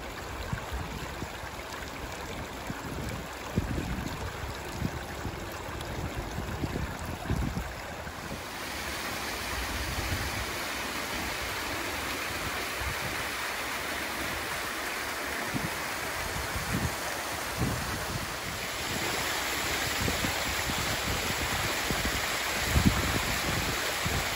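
A stream in wooded West Yorkshire countryside runs among mossy stones as a steady wash of rushing water. The flow holds at a moderate level throughout, with a few louder splashes and no voices.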